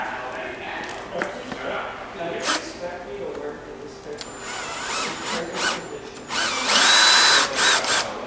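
A power drill fitted with a 1/8-inch bit whines in repeated bursts, revving higher toward the end, with a person talking over it.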